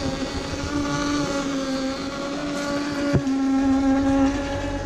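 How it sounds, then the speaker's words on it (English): An air compressor runs continuously beside a truck camper during winterizing, a steady mechanical hum with a droning tone. A single brief knock stands out partway through, and there is no talk. "I'll just move the air compressor a little bit farther away so it's not so noisy"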